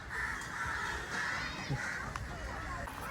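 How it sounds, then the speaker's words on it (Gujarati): Crows caw repeatedly in an outdoor public spot, loud and close, with a steady murmur of voices and crowd noise underneath. "કાગડા અહીંયા જોરદાર છે જો"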